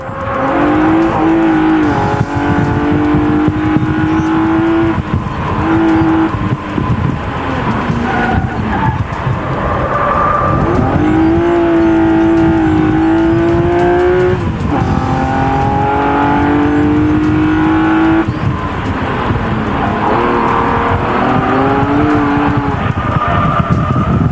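A Hartge H3 engine with 40mm throttle bodies drones steadily throughout, rising and falling in pitch as it revs and shifts through gears, loud and close.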